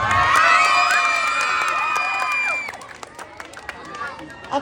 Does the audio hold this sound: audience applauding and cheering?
yes